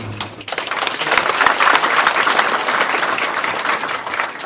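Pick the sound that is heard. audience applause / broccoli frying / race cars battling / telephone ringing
audience applause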